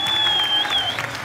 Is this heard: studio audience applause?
yes